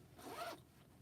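A zipper is pulled along a Yazzie storage box. It makes a single quick rasping pull of about half a second, close and fairly quiet, and no one talks over it.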